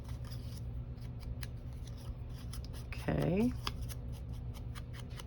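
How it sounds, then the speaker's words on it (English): Scissors snip paper for a pink folio craft tag in one short, close, rasping cut, while a voice speaks briefly over steady low background noise. "let me cut the piece I need"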